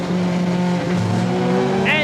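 BTCC 1988 touring race cars, including VW Golf 1800cc entries, lapping a slower backmarker on track; steady engine drone with shifting tones and a brief tire squeal near the end, heard under continuous commentary.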